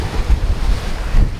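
Sea water surging and splashing over the deck of a fishing boat off Alaska, a loud rushing wash with heavy wind buffeting the microphone throughout.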